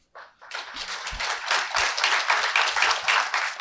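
An audience claps warmly at the close of a lecture, a dense, steady round of applause that starts after a brief pause and holds loud and even throughout, with no voices over it.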